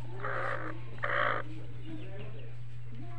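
A brooding hen sitting on her eggs in a nest gives two short, close clucking bursts over a steady low background hum.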